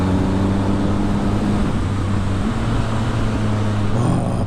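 A Triumph Speed Triple RS motorcycle engine drones steadily at speed, loud and close, its pitch shifting around the middle as the auto-blipper matches revs through a gearshift, with wind rush throughout and no talking.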